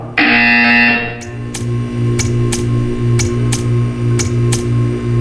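Repeating buzzer in the video game Portal 2, a steady low droning tone pulsing in evenly spaced bursts about every half second, with sharp faint clicks on each beat, loud and alone after a brief opening chime.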